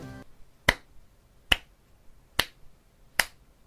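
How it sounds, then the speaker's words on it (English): Four sharp, isolated hand claps of a slow clap, evenly spaced under a second apart, crisp and close against near silence. "slow applause for argon,"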